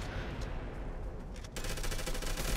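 Rapid gunfire crackles in the online shooter Bullet Run, with scattered shots early on and then a dense, loud automatic burst filling the second half.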